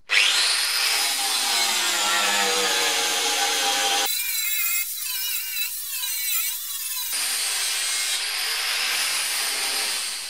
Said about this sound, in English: I tried going as easy as I could with the grinder